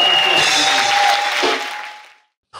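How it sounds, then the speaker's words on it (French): Applause from a church congregation, a broad dense clatter of clapping that fills the space for about two seconds, then tapers off and stops, with a steady tone running beneath it. "Acclamation à ce Jésus."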